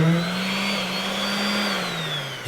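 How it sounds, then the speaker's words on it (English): A carpet sander vibrating sand loose from a truck's carpet, a steady, loud droning motor hum with a high whine, running continuously and alone before briefly cutting off at the end. "So basically you just take the sander, turn it on."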